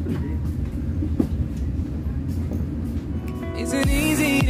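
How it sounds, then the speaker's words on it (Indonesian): Baturraden Ekspres train pulling out of Leles station, a low steady rumble of rolling wagons with faint clicks, then a loud horn blast near the end. "Dan keretanya akan diberangkatkan kembali."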